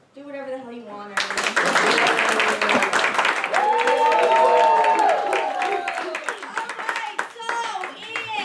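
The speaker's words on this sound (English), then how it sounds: "you can applaud or cheer or do whatever the hell you want." A dessert theater audience at a playhouse breaks into loud, sustained clapping and cheering after a brief spoken line. Whoops and shouts rise over the dense applause before it begins to thin out.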